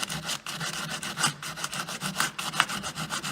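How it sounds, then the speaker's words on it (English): Painted wooden cabinet mouldings being distressed, heard as a close rhythmic rasping and rubbing, short scraping strokes repeated back and forth at a steady pace with no talk. "I'm just going to show you now how you can distress your mouldings."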